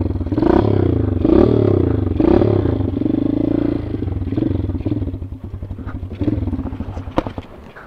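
A snowmobile roars close by on a ride out toward the Lawson mine, its engine revving loudly in surges and then settling into a rougher, clattering run as the sled bumps along.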